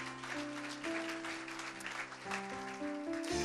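A church congregation applauds during a worship service, a steady patter of clapping mixed with organ or keyboard chords.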